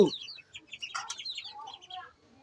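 Doves and small birds call close by in quick, bright chirps and short warbling notes, with a brief low sound at the start.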